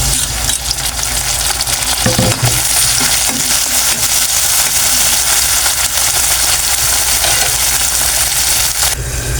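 Tomatoes frying in a pan for Filipino fish adobo, adobong isda, a loud continuous sizzle and hiss that holds steady throughout, with a brief clatter of stirring near the start.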